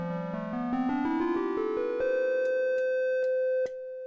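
A buzzy synth tone steps upward in pitch with its bright upper edge filtered away, leaving a dull, muffled low sound, with a few sharp clicks near the end.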